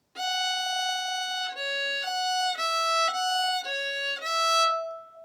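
A solo fiddle plays a short phrase of an easy traditional tune, a run of clear sustained bowed notes at a steady moderate pace, close and fairly loud, with no talking.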